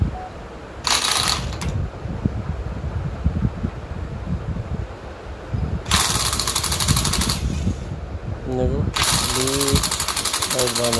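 An impact gun spins a Lexus LS400 alternator on the bench in short loud whirring bursts separated by pauses, with someone talking in between and under the noise.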